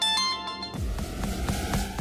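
A ringtone chimes with bright, repeating electronic tones, then gives way to a busier stretch with low thumps and tonal notes pulsing in a steady rhythm.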